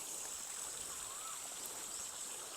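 Steady rushing water flows continuously from a pipe fed by a solar-powered garden pump, a broad hiss like a strong stream pouring out, with no voices.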